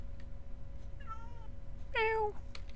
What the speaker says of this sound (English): Down here, we have the cat room, where the evil cats sit.